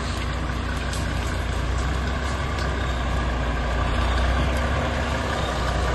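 Off-road jeep crawling over an obstacle on a mountain trail up Oslyanka, a continuous heavy engine drone with a steady low rumble, close and loud throughout, with no talking.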